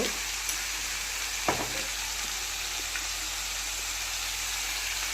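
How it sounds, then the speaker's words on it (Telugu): Chicken pieces fry in peanut oil with salt and turmeric for a chicken pickle, giving a steady, close sizzle throughout with a couple of brief stirring clinks. "కొద్దిగా పసుపు వేసి నీళ్ళు ఎగిరిపోయిన దాకా బాగా వేయించుకోవాలి"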